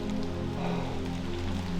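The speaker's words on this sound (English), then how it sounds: "I think I'm going to get out of the rain and find somewhere to sit and have my sandwich." Steady rain falling on a wooded hilltop viewpoint in the Wye Valley near Trellech Beacon, a constant close hiss and patter of drops on surfaces with a low background hum, no voices.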